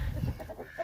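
A part-Brahma rooster in his own small pen gives a short series of soft, rapid clucks, close by and fairly quiet against a low background hum.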